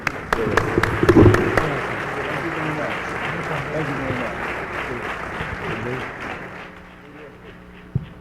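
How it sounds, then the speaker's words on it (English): Audience members at a Latin American democracy forum applaud a panel, sustained clapping that is loudest at the start with sharp individual claps, then steady and fading, with voices talking over it. "Please join me in a round of applause for this great panel"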